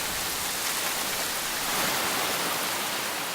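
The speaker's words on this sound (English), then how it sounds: "The rain just hits you like a hailstorm would, so it actually hurts." A heavy rain squall pours down in dense, driving sheets, hitting surfaces with a loud, continuous roar. The rain dominates and no voices are heard.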